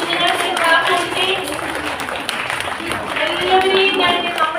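Children and adults clap to welcome new pupils at a school's start-of-year admission festival, a lively steady patter of many hands with voices and chatter mixed underneath throughout.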